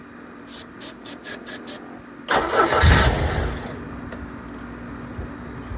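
A Caravelle boat engine gets its first start of the year with the key: six short, quick cranking bursts, then it catches with a loud roar and settles into a steady idle.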